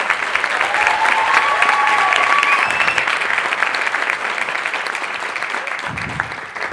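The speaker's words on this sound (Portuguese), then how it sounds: "Salve de palmas para o Márcio Ribeiro." A stand-up comedy audience bursts into loud, sustained applause with some cheering, clapping steadily the whole time and thinning slightly near the end, with no talking over it.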